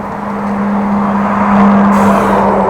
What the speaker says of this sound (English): Big truck rolling up the hill.